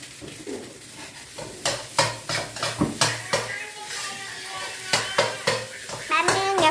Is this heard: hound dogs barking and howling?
no